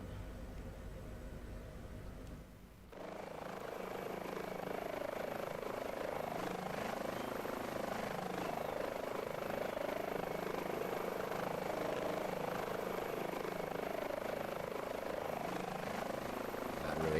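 In the MSFS 2024 video game, an H145 helicopter's engines idle with a steady turbine whine and rotor hum. The sound sets in after a short, quieter opening and stays constant and prominent to the end.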